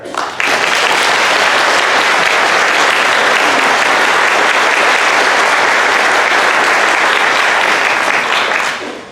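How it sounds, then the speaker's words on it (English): A law school graduation ceremony crowd gives a long, loud, sustained round of applause for the parents, dense clapping holding steady for about nine seconds before cutting off. "let's give a round of applause to our parents"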